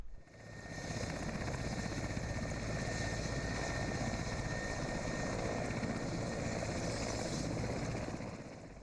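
A military helicopter carrying anti-terrorist forces flies over a flooded area, a loud continuous rotor and engine roar that holds steady for several seconds before easing slightly at the end.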